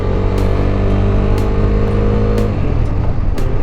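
Bajaj Dominar motorcycle engine in Istanbul evening rush-hour traffic, a loud continuous engine drone with a steady hum and brief sharp noise bursts, close and unbroken, with no voices.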